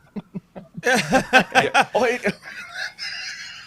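A bird gives a few quick clucks, then a burst of louder, rising squawks and a longer, higher call, close by.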